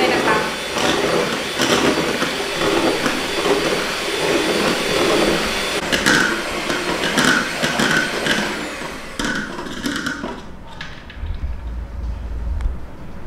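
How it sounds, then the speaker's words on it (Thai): An electric mixer whips Rich's SunWhip cream in a bowl, giving a steady, loud motor whir that runs continuously, its pitch shifting slightly as the beaters work the cream. "ลักษณะแบบนี้นะคะก็เป็นการตีตั้งยอดซึ่งสามารถเอาไว้ผสมทำเป็นมูดได้นะคะ"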